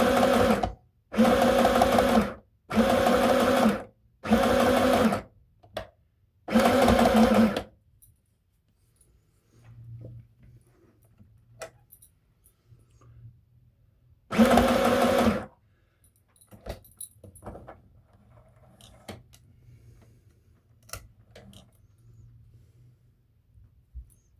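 A sewing machine stitches a red cotton skirt in short bursts: five quick runs of whirring, a long pause with faint handling clicks, then one more run. Each burst is loud and close, with no talking.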